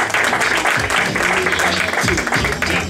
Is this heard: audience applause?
yes